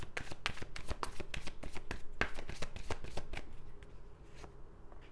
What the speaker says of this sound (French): Je vais tirer une autre carte avec celui-ci.